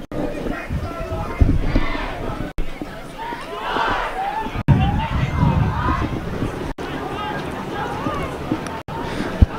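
Crowd noise at an OUA men's soccer championship final rises and falls as general chatter and cheering, with commentators talking over it and several short gaps in the sound.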